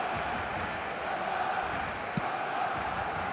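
Crowd in an eFootball 26 football match roaring steadily as momentum shifts, a dense continuous stadium wash with no single peak and a brief sharp knock partway through.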